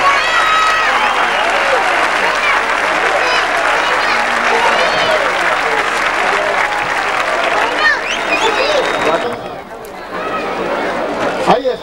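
Crowd applause at a Vinaròs bull-dodging recortes event honouring the dodger Chipu, a dense, steady wash of clapping and cheering lasting throughout, with an announcer's voice and shouts over it before it thins near the end.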